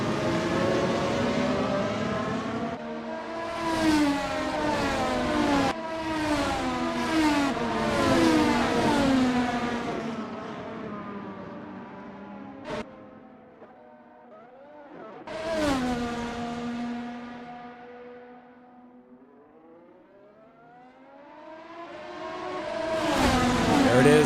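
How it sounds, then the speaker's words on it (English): Race cars at the Palmadera circuit scream past, engines revving up and dropping through the gears in repeated rising and falling waves. They grow loud on each approach and fade as they pass. "Sound of these cars, love the look of these cars as well."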